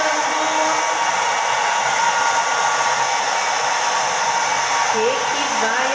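A hair dryer blowing on paper to dry it, a loud, steady, close whir that runs unbroken throughout with no talking.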